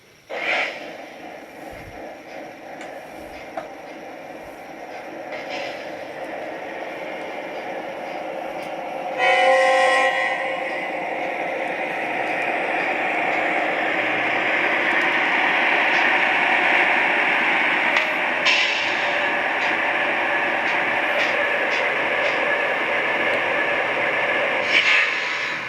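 A Lionel Norfolk Southern ES44AC model train locomotive in Heritage Southern paint runs steadily with a continuous whirring rumble that builds and holds. A short horn-like blast sounds near the middle, and nobody speaks.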